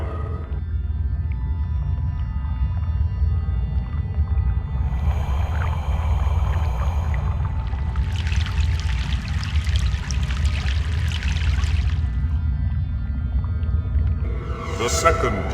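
In Broken Sword 3, a boat makes a river crossing over a constant deep rumble, with a swell of sloshing water followed by a longer stretch of bright rushing splashes and a short burst at the close.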